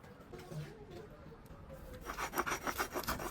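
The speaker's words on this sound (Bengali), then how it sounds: "কচু নারকেল কোড়া সর্ষে এবং কাঁচা লঙ্কা দিয়ে খুব মসৃণ করে বেটে নিলাম" Grated taro, shredded coconut, mustard seeds and green chillies being ground smooth on a stone grinding slab, a soft gritty rubbing that grows into louder rhythmic back-and-forth strokes in the second half.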